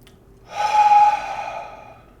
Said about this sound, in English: So what I'm doing is I'm going to take a deep breath.